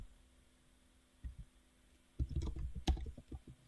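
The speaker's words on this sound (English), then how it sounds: "just start typing stuff" Computer keyboard typing during a coding session, a short quiet tap or two followed by a brisk cluster of keystrokes near the mic, with no talking.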